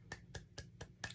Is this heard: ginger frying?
no